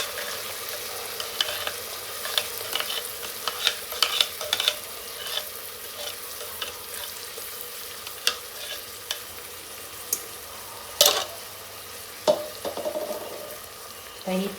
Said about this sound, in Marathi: तर ही पेस्ट सुद्धा व्यवस्थित याच्यामध्ये परतून घ्यायची